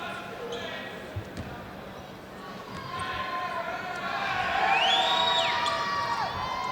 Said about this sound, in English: As the crowd starts to make a little bit of noise